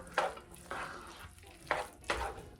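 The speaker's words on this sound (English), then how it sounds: "So let's give that a quick stir." A spoon stirs Parmesan chicken and rice in a skillet, four short scraping passes in a row with a light sizzle underneath, close and moderately quiet, with no voices.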